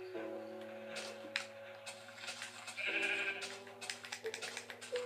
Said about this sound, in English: I'm gonna shear the sheep.